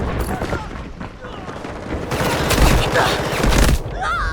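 Shotgun fire in the video game Delta Force, heavy booming shots mixed with other gunfire and effects in a dense, loud burst of combat.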